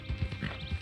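Horse hooves clip-clopping along a trail in the video game Red Dead Redemption 2, a quick, steady series of close hollow thuds over a faint background hum.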